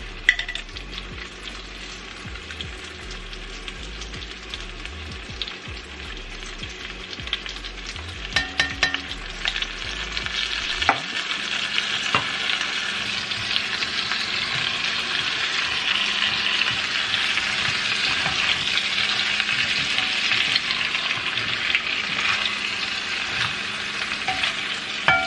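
Onion and minced garlic sizzle and fry in a Dutch oven, a steady hiss that builds after an initial clatter of ingredients dropping in, loud and close with no talking.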